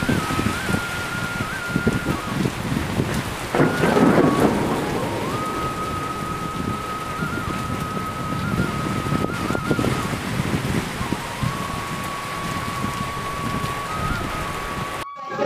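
Steady rain pours down over a Punjabi town during an evening downpour, a dense continuous hiss that stays loud throughout, with a brief heavier burst and a faint tonal hum running underneath.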